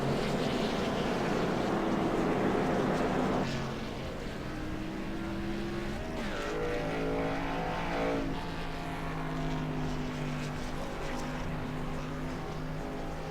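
A race car slowly works its way down pit road at Iowa Speedway during a stock car series event, its engine a steady droning rumble with a shifting pitch as it moves along.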